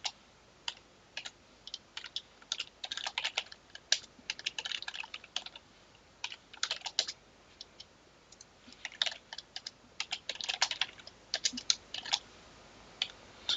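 Someone types code on a computer keyboard in close, quiet bursts. Rapid clusters of sharp key clicks are broken by short pauses, and no one talks over them.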